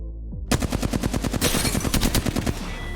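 Rapid automatic gunfire from a video game rattles out in dense, fast bursts, loud and close, running almost continuously after a brief quiet start.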